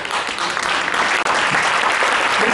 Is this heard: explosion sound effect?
no